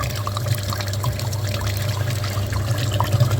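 Water flushes through a badly clogged car heater radiator from a Hyundai Sonata, a continuous close gurgling and splashing flow with low churning, steady for the whole stretch.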